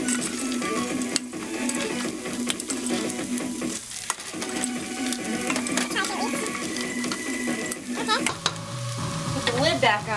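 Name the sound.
stirring tofu scramble with potato and vegetables in pan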